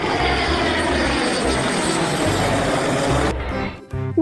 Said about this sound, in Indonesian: yang ini pesawat tempur